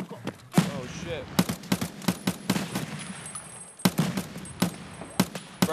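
Rapid, sharp gunshots from a shooting video game fire in quick, uneven bursts, close and punchy, with a player's voice talking in between.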